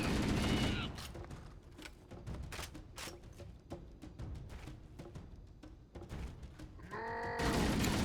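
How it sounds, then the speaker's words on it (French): Dense gunfire bursts and metallic impacts with a ricocheting bullet in Halo: Combat Evolved, loud and continuous, broken by a whooshing electronic sweep near the end. "La balle qui ricoche."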